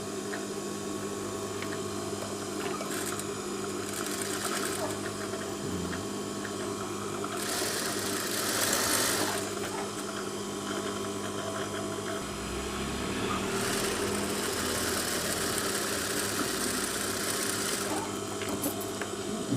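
A sewing machine stitches the shoulder seams of a garment, its motor whirring in two clear bursts over a steady mechanical background hum, close and without talk.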